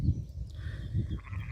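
Icelandic sheep bleat out in a pasture, two or three short, fairly close calls spaced across a brief moment with no talking.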